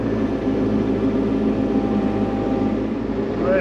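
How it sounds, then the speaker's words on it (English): A heavy excavator's diesel engine runs steadily and loudly up close while it is set to lift logs for a garden table, giving a continuous low rumbling drone with no talk. "let's grab the excavator, get this picked up"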